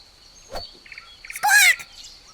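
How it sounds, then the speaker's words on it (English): Flamingo calling nearby: a short honk, a few brief nasal notes, then a louder harsh, rising call, with quiet gaps between. "This is a flamingo."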